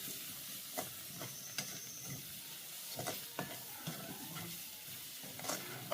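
Spinach with potato and carrot sautéing in a pan for a Jaffna-style rava upma: a soft, steady sizzle broken by occasional scraping stirs and spoon taps, with no talking.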